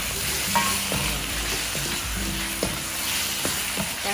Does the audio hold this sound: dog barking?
no